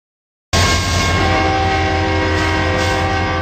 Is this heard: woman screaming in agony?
no